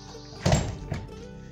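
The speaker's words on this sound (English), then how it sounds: "And the barn door is closed" A barn door swings shut on a farm where goats and chickens are housed for winter, landing as a single close, dull thunk with a faint secondary knock just after, against quiet background.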